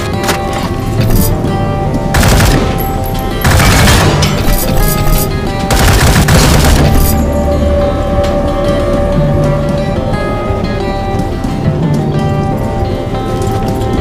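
Rapid bursts of automatic gunfire from the World War Heroes shooter game crackle in loud, dense volleys, with heavier surges around the middle and steady firing throughout, no talking.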